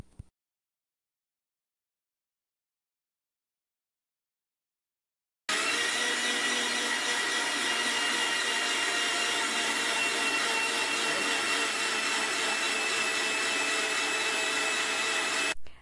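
An electric mixer blends maida flour batter, starting suddenly after several seconds of silence and then running as a loud, steady whirring buzz until it cuts off at the end.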